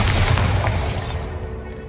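A Bombarda spell explosion in Hogwarts Legacy booms loud and close, a dense rumbling blast that fades out within two seconds.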